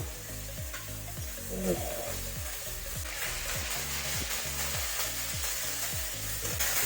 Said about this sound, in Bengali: এই মাছ ভেজে তেল বেঁচে গেছে তেলের মধ্যেই দিয়ে দিব মশলা আদা জিরে লঙ্কা একসঙ্গে বাটা